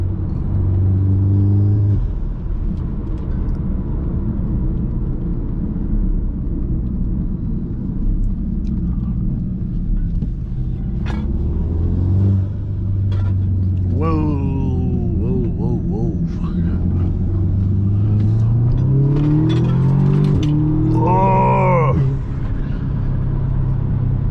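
A Stage 1 tuned Audi S3 engine rumbles and revs repeatedly, rising in pitch as it accelerates hard, loud and close, with people talking over it.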